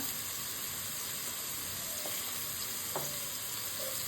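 Onion, green chili and garlic sizzle in hot oil with a steady, even fry hiss, broken by a couple of faint clicks near the pan.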